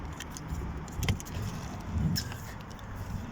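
Keys jangle close by as a van's side door is worked, with a couple of metallic clunks and latch sounds over a low background rumble.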